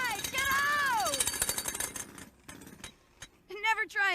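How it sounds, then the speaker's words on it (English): A running jackhammer makes a fast, harsh rattle while a voice talks over it, the vibration warbling the words, then the hammering stops and scattered clicks and another voice follow. "Never try and talk while you're using a jackhammer."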